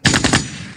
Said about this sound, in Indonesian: Suara apa itu? Ada orang bakar